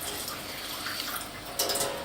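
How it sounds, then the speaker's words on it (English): Water poured into a chicken and leek pie filling in the pan, a short steady splashing trickle that grows louder and brighter toward the end. "So I need a little bit more water."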